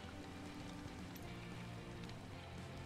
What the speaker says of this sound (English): It's raining in the game.